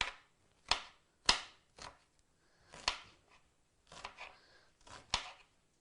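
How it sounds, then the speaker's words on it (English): A knife chopping onions on a cutting board, about ten sharp separate knocks at an uneven pace, close and clear with no talk. "I've got the onions that I'm going to chop these onions up"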